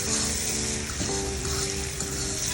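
Egg sauce seasoned with curry powder sizzles steadily in a pan, a continuous close frying hiss without talk.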